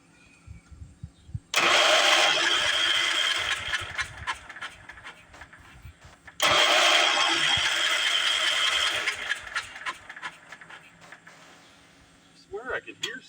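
A Wheel Horse garden tractor engine is cranked over twice by its starter, each burst a loud, sustained whirring grind for several seconds without catching, with someone talking quietly between attempts.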